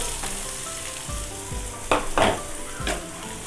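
Potatoes fry with onions in oil in a village-style Tamil potato fry, a close steady sizzle punctuated by a few scraping stirs and louder bursts of spattering near the end.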